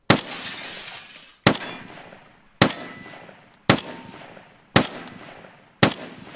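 Scoped rifle in Escape from Tarkov firing six sharp, loud single shots about one second apart, each with a bright crack and a ringing tail that fades before the next.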